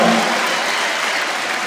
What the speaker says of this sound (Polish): Brawo proszę Państwa, brawo! Wielkie brawa.